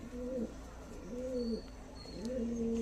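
A tournament racing pigeon coos close by in three soft, throaty, repeated phrases at an even pace, against a quiet background.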